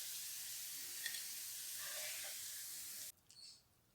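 Food sizzles steadily in a frying pan for Spanish potato tortilla, a dense hiss that stops abruptly near the end, followed by a brief clatter of handling.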